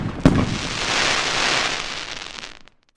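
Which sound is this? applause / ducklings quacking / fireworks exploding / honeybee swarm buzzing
fireworks exploding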